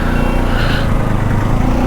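Kawasaki Ninja 300 motorcycle engine droning steadily while riding on a road, a loud continuous hum mixed with wind rush, close to the rider.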